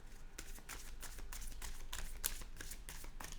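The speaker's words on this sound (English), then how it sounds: "So I'm going to shuffle it 11 times." Tarot cards are shuffled in quick repeated riffling bursts, soft and close, with no talking.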